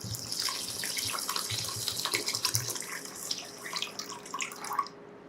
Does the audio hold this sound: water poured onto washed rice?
yes